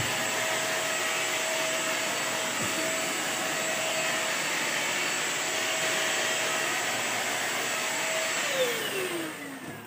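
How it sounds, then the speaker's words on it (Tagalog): A vacuum cleaner cleaning a bed runs with a steady, loud whine and broad motor roar, unbroken for nearly ten seconds before its pitch drops and fades as it begins to power down. "tinuro ko lang sa inyo kung paano pag-vacuum."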